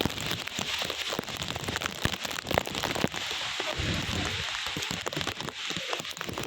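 Heavy rain pours steadily with sharp crackling bursts and gusts, a loud, continuous storm roar throughout.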